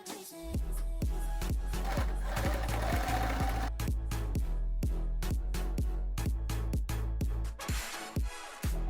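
A sewing machine stitches handbag handles of African print fabric and lining, a loud close rhythmic clatter of needle strokes running steadily with brief pauses.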